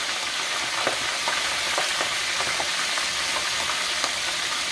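Seafood such as lobster, shrimp or crab legs frying in hot oil, a loud, dense, continuous crackling sizzle with faint pops scattered throughout and no talking.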